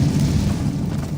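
A Confringo spell blast in Hogwarts Legacy, a short, loud, low booming burst of fiery explosion filling the moment with dense rumble.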